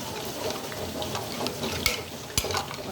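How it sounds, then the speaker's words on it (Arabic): Pickled eggplant stirred with salt in a pot, giving a soft continuous scraping hiss broken by a few sharp clinks of the spoon against the pot, close and moderately quiet. "هقلب بقى عشان الملح يدوب"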